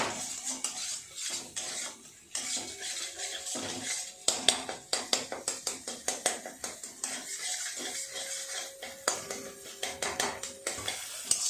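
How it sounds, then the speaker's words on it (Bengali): Two eggs, seasoned with a little salt, are broken up and fried in a kadai, with a spatula clinking and scraping rapidly against the metal over a faint sizzle; close, busy and steady, with no voices. "ডিম দুটো এইভাবে ভালো করে গুঁড়ো গুঁড়ো করে ভাজা ভাজা করে নেব।"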